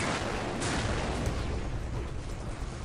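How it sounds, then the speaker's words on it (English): Dense, continuous rumble of rapid shock-rifle fire and orb explosions in a Unreal Tournament 2004 deathmatch, loud and steady throughout with a sharp burst near the start and no speech. "I can actually shoot my opponent's shock orbs"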